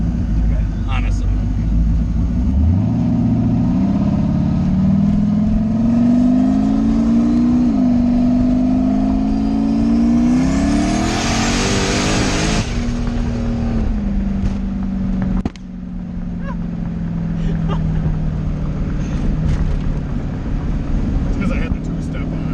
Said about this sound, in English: It's because I had the two-step on. That's why it's backfiring.